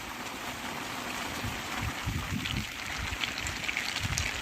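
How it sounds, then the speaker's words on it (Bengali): Heavy rain pours steadily over the Sundarbans mangrove forest, a dense broadband wash of water close by with low rumbling splashes, no voices. "জোরে বৃষ্টি চলে এসছে।"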